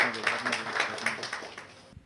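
An audience claps to welcome a guest, the Ahinsa Group chairman, onto the stage at a media summit in London. The clapping comes in a short, dense burst of mixed hands that fades out after about two seconds.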